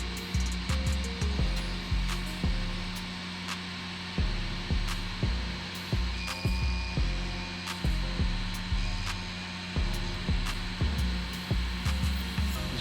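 A machine tool cutting a brass part gives a steady whirring drone with regular rhythmic pulses of cutting load, punctuated by sharp ticks, continuous and moderately quiet.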